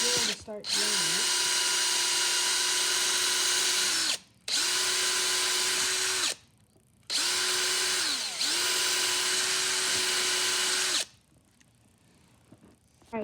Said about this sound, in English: We got the drill to start drilling it.